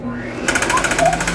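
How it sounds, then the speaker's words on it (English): A John Deere planter seed meter vacuum starts up into a steady rumbling hum with a rapid, regular mechanical pulsing on top, loud and close, testing cotton seed. "you'll hear the kind of the rumble of the vacuum"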